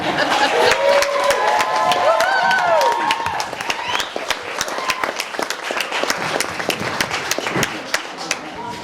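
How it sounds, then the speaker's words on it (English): Wedding guests clap and cheer loudly, with whoops and shouts rising over the applause in the first few seconds before it settles into steady clapping, a few voices still audible. "ladies and gentlemen, please, your biggest applause for Dominic"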